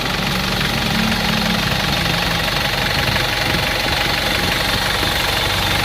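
A freshly rebuilt engine idles steadily at working temperature, a continuous close rumble with a faint knocking texture and no change in pace.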